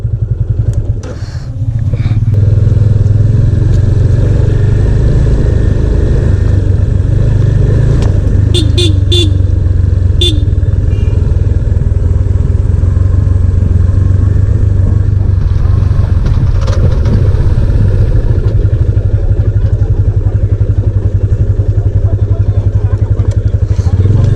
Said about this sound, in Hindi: सेकंड गियर में अरे ब्रेक लगा रहा हूँ, फिसल रहा है।